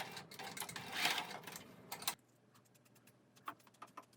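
A sewing machine runs a fast, steady stitch along a shirt seam for about two seconds and then stops. Faint clicks and handling taps follow in the quiet.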